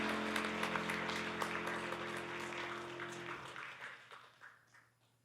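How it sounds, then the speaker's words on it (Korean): Church congregation at a Sunday worship service giving a round of applause, dense clapping that holds steady and then thins out and fades toward the end, with a sustained tone beneath it at first. "승리 주시는 하나님께 영광의 박수 올려드립니다."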